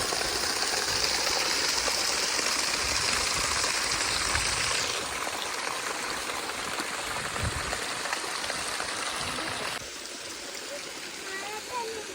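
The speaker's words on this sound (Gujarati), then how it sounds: "હવે આગળ એક ધોધ આવેલો છે" Continuous rushing water of a waterfall, steady and moderately loud, dropping slightly in level partway through.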